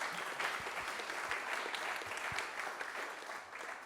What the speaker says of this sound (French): Monsieur Charles-Ange Ginesi, que vous pouvez aussi applaudir.